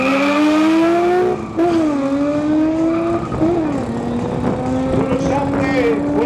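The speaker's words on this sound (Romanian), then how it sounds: "Auzi ăsta cu motorul de pe evacuarea. Ascultă-o." Race car at a drag racing event, its engine and exhaust droning loudly and close with rising and falling pitch as it revs, a steady harmonic whine throughout, with faint crowd and voice sounds underneath.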